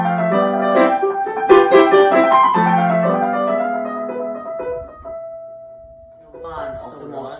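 Piano playing the quick right-hand runs of Für Elise, a flurry of bright notes over sustained lower harmony, then thinning to a single held tone before talking starts near the end.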